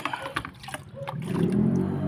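Water scooped with a dipper and poured onto a carrot bed, a few light splashes and scoops followed by a steady trickling pour, close by.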